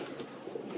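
Pigeons cooing on a rooftop where racing pigeons are flown, a faint, soft, low cooing murmur that continues steadily through the short moment with no talking.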